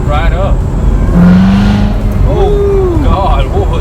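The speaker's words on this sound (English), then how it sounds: "I'm gonna try to downshift the second gear. Ooh, that revved right up." A 2017 Corvette Z06 engine, a rebuilt wrecked car, blips and revs sharply during a rev-matched downshift to second gear, rising in two quick surges over a steady engine drone, with people talking in the car.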